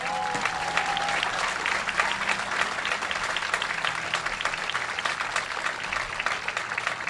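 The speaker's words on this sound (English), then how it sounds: "Let's give them all a big round of applause." A baseball crowd at a Newport Gulls versus Plymouth Pilgrims game applauds military service members, veterans and active duty. The clapping is dense and sustained at an even level throughout, with a brief stadium announcer voice at the start.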